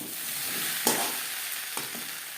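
Rui fish curry with maan kochu cooks in a pan, a soft steady sizzle broken by a couple of brief scraping stirs of a spoon, fairly quiet and close.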